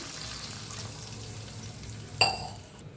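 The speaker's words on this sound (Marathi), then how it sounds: "एक ग्लासभर पाणी पाणी ओतूया" A glass of water is poured into a hot pan of oil with ajwain and coriander for a potato and rice-flour snack, giving a sudden short sizzling burst after a low kitchen hum.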